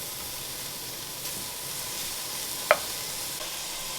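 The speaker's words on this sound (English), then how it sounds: "I'm just going to move this bacon around in here, let it fry up a little bit" Bacon fries in a pan with a steady, quiet sizzle and hiss, with a single sharp utensil tap against the pan as it is stirred about.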